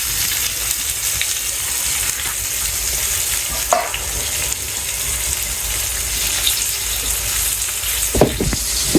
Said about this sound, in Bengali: এখন ভাজি হইতেছে